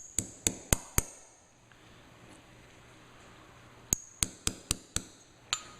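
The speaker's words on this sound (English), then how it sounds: "knock this pin back in" Sharp metallic taps come in quick bursts as a pin is hammered back into a Mossberg 590 shotgun bolt: four hammer strikes, a pause of quiet, then a second run of about six more, close and crisp.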